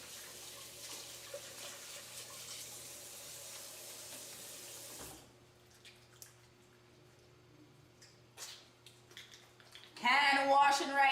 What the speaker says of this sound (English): Do a little hand washing.